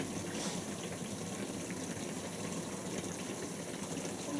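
A washing machine takes in water at the start of its main wash, giving a steady, even rushing hiss of filling water that holds constant throughout at moderate volume.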